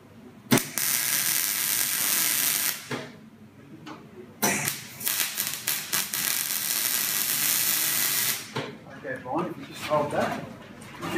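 An A-frame trolley tube is being welded in a workshop, producing long bursts of crackling, hissing arc noise separated by short pauses, with people talking faintly in the background.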